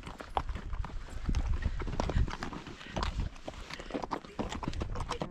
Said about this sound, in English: he was selling us a tour to go horseback riding